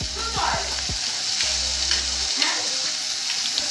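Onions and tomatoes frying in a pan for Maggi noodles, a loud steady sizzle with stirring scrapes, a low hum that cuts out partway, and faint voices in the background.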